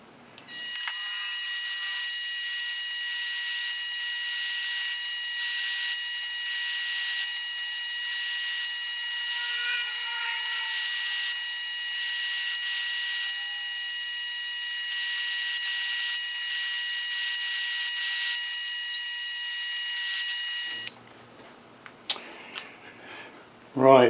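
A drill bores a small pilot hole through a metal workpiece: a loud, steady high-pitched whine runs unbroken for about twenty seconds, then cuts out, leaving a few faint clicks and knocks.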